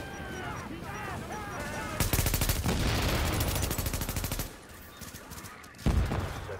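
Shotgun-wielding enemies fire in The Division video game: loud, dense bursts of rapid gunfire and blasts crowd the middle of the clip, then a shorter burst follows, with a voice briefly audible early on.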